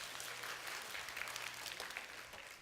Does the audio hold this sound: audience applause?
yes